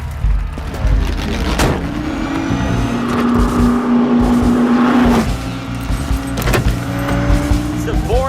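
A Ford race car engine drones loudly in a film scene, holding a steady high pitch before easing off and revving again, with voices talking over it.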